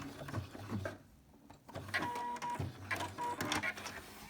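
A sewing machine stitches through fabric while a template is being assembled. It runs in short mechanical bursts with brief pauses and a steady whirring hum, close and moderately loud, with no talking.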